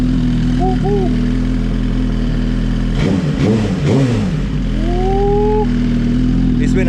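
A Suzuki Gixxer motorcycle, just started after sitting unused for three days, idles steadily close by with a deep, continuous engine drone, then revs up twice in quick rising swells before settling, with a voice briefly calling out over it.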